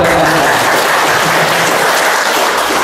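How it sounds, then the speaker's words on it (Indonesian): Dense, loud applause from an audience at a village officials' inauguration ceremony, an unbroken wash of clapping throughout. "Tepuk tangan buat Pak Lurah."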